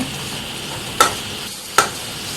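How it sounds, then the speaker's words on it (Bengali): Onion and finely chopped garlic frying in a pan for a jute leaf dish, a constant close sizzle broken by two sharp stirring scrapes. "এখন পেঁয়াজটা একটু লালচে করে আমি ভালোভাবে ভেজে নেব"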